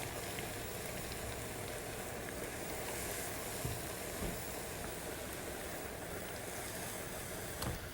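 Aloo vada frying in hot ghee in a wok, a steady, dense sizzle and crackle that stays loud and even throughout, with occasional small pops.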